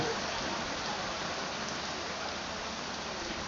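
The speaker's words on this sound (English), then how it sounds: "I don't know if you can hear me over the rain" Steady heavy rain pouring down, a dense continuous hiss of drops on surfaces filling the whole moment.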